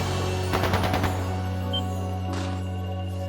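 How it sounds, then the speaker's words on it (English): Bursts of gunfire in the video game Trails of Cold Steel 2, a short rattling volley over a steady humming game music background, fairly distant and muffled. "That didn't sound good. That sounded like gunfire."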